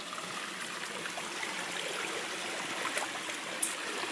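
Stream water flows steadily at Candis Falls, a continuous, moderately faint rushing and trickling wash with no voices.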